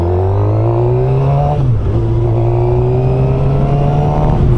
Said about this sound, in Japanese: マフラー交換後のパワーチェックをしていただきました。